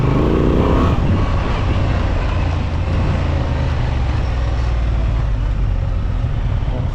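A 2025 Honda Transalp 750 A2 motorcycle being ridden on the road, its steady engine drone and wind rush loud and continuous throughout, with no clear changes in pace.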